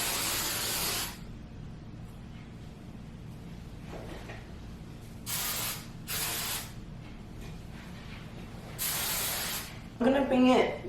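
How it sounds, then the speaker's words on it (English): Hairspray from an aerosol can hisses onto hair in several short bursts of about a second each, close and fairly loud, with quiet gaps and faint handling noise between them. "Now I'm gonna add a little bit of hairspray."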